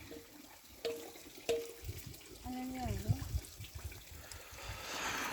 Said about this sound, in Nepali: यहाँ चाहिँ मेरो बुढी यसो भाँडा पखालिरहेको छ